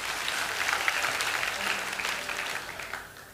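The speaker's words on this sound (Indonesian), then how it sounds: "kasih tepuk tangan untuk Tuhan." A church congregation at a sermon claps together in a steady, dense wash of applause that fills the room for a few seconds without pause.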